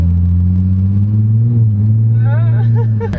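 A 2015 Hyundai Genesis Coupe with a 3.8L V6 of 348 hp drives along, its engine holding a loud, steady low drone while someone talks over it.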